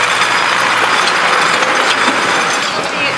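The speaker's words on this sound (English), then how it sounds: "There's a lovely big tractor coming past." A big tractor rolls past on a country road, a loud, close, broadband rumble and rushing roar that holds steady for a few seconds, then eases slightly as it moves on.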